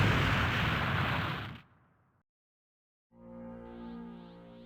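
A force-ability explosion in the Minecraft Dragon Block C mod, a loud broad blast that cuts off abruptly into near silence before a rising rumbling effect returns.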